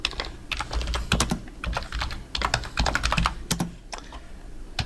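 Quick bursts of keystrokes on a computer keyboard entering search terms, close and crisp clicks in uneven runs with short pauses between words, no voices.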